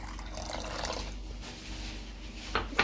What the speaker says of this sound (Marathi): आता यात मी गरम पाणी घालणार आहे